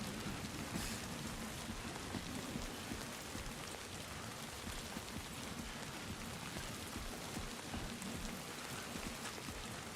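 Steady rain falls in the video game Death Stranding 2, a dense, even hiss of drops with no speech over it.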